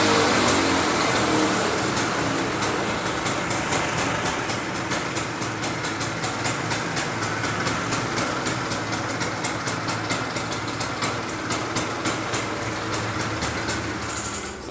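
An old Honda motorcycle, an original Honda CB-type bike, idles steadily with a regular ticking, thumping beat of even pulses, close and continuous, with no talking over it.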